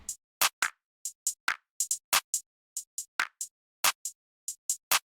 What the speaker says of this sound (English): Next thing I added was this counter clap instead of a snare,